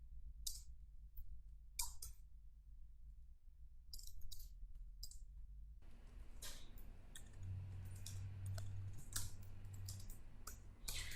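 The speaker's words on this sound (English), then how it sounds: "I'm just typing random things here" Computer keyboard typing in irregular bursts of clicks, sparse and separated at first, then denser and more continuous over a steady background hum; close and moderately quiet, with no talking.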